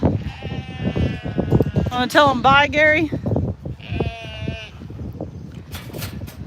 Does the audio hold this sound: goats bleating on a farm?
yes